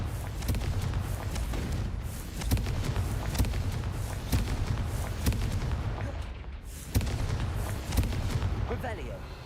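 Booming blasts of the Confringo fire spell in a wizard video game, several heavy explosive hits in quick succession over a dense rumbling game soundscape.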